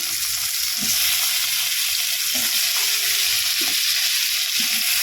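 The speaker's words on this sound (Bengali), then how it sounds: "আলুটাকে আগে ফ্রাই করে নেবো" Potatoes fry in hot oil with onion, ginger and garlic paste, giving a loud, continuous sizzle, with occasional scraping stirs of a spatula at regular intervals.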